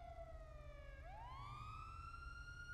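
A police siren in the video game GTA 5 sweeps down in a steady wail, then rises again, loud and continuous, with no talking over it.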